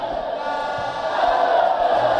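A football stadium crowd at a 2023 cup final between Beyond Limits and Shooting Stars FC roars together in a loud, swelling cheer that builds over a couple of seconds.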